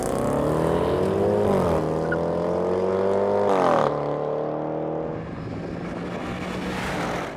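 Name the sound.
Porsche car racing a Range Rover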